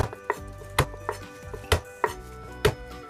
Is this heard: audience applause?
no